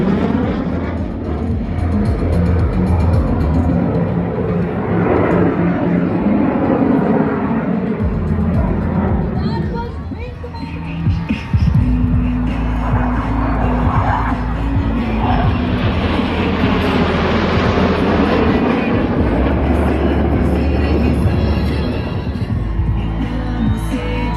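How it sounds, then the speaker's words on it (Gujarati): Loud roar of Indian Air Force Surya Kiran jets sweeping overhead at an air show in Vadodara, swelling and fading over a large crowd, with a voice talking over it in places. "વડોદરાનું આકાશ વિમાનોના અવાજથી ગાજતું રહ્યું હતું"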